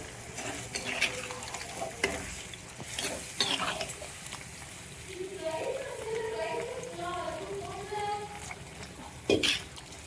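Loud sizzling in a hot pan as water is poured into tempering spices for chicken curry, with stirring scrapes and a sharp hiss bursting up near the end.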